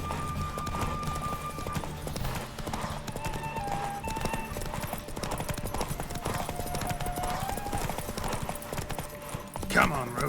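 Rhythmic clip-clop of Roach's hooves in The Witcher 3, with a horse galloping steadily and loudly under music and ambient game sounds, a man's brief speech and a whinny-like burst near the end.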